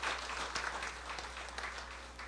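Applause from a crowd at an outdoor political rally, a steady, fairly faint wash of clapping with a low constant hum underneath, heard from a distance.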